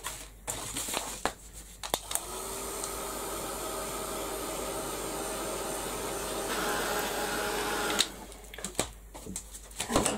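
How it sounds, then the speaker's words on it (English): Heat gun blowing steadily over a mixed media canvas, a continuous airy whoosh with a faint motor whine lasting several seconds, framed by brief handling knocks before and after. "I'm going to give this a quick blast with the heat gun"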